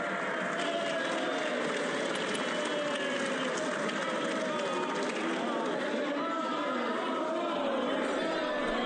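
Members of parliament applaud and murmur in the chamber, a continuous, moderately loud wash of clapping mixed with crowd chatter that holds steady throughout.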